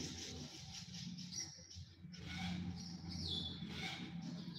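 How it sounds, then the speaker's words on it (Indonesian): Restless aviary birds squawk and call repeatedly while a monitor lizard lurks inside the enclosure, a dense chorus of chirps and squawks filling the air at moderate distance with no voices. "untuk burung-burungnya juga mereka ngumpul gelisah sambil bunyi-bunyi gitu ya"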